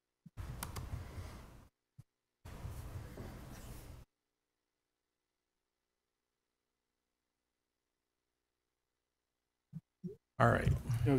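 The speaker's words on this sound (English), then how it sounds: "just give me a second to type this in because I'm going to make the motion" Typing on a computer keyboard, heard as two short bursts of dense, fast clicking separated by a pause, followed by long silence and a few faint taps at the end.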